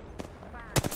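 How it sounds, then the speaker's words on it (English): Gunfire in the video game Apex Legends, a short burst of rapid shots, with a louder cluster of reports at the end, heard over low background noise. "Dude, they're firing you"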